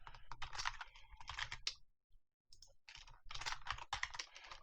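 Rapid typing on a computer keyboard, bursts of close clicky keystrokes with a brief pause midway before the typing resumes.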